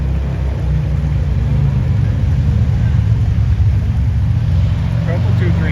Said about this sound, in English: That's a motorcycle.